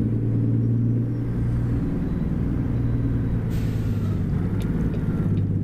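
A truck engine in American Truck Simulator, driving on Idaho mountain roads, gives a steady low rumbling drone with a faint hiss of air partway through, no talking.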